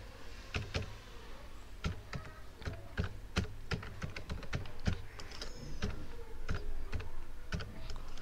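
HTML code being typed on a computer keyboard, with quick, irregular keystroke clicks in bursts and short pauses, close and quiet, without talk.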